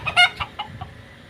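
Farm-raised broiler chickens in an enclosed poultry shed give a short burst of clucks and squawks, several quick calls close by that quickly fade.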